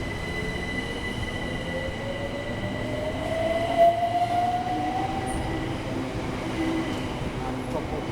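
A Class 376 electric train rolls past with a steady rumble, a rising whine and high squealing tones, sustained and fairly close.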